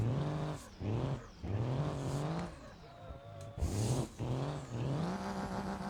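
Engine revving hard while drifting in BeamNG.drive, a loud sustained rising and falling whine with several sharp throttle blips and brief dips, tire noise between the revs, no talk.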